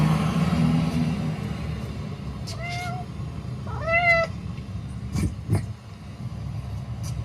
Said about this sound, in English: My neighbor's cat decided to adopt us